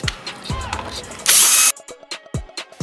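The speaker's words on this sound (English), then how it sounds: "So you take out these screws." A power screwdriver backs screws out of the diffuser unit of a Canon photocopier, with one short, loud whirring burst among scattered clicks, taps and handling knocks of metal parts.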